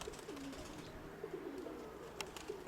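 A female pigeon in a loft gives low, throaty coos in short repeated phrases, faint but clear over a quiet, steady background.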